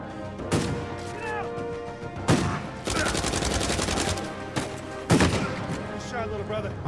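Gunfire in Uncharted 4: repeated bursts of shots, sustained rapid automatic fire and sharp impacts, loud and close, with someone talking over parts of it.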